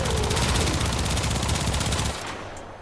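A dense, loud stream of rapid-fire shots from the Kuva Twin Stubbas pistols in the video game Warframe, firing continuously for about two seconds and then stopping abruptly.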